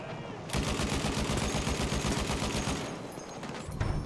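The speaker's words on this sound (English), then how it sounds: "Machine gun, look like." Rapid machine gun fire in the Battlefield 1 video game, Amiens map in Conquest mode, rattles as a loud, dense, steady burst for about three seconds before trailing off.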